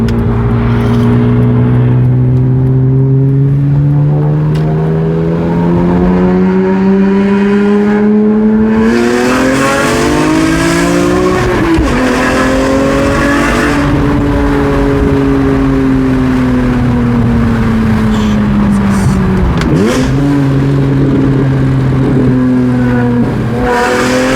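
A BMW E46 M3's loud modified exhaust roars as the engine climbs steadily through the revs in second gear, its pitch rising over a long pull, with brief dips between surges.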